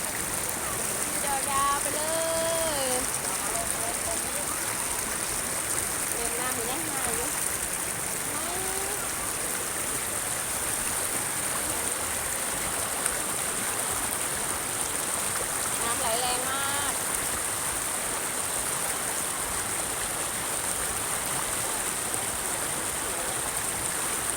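Steady rushing water from a waterfall stream fills the scene, with people talking faintly underneath now and then.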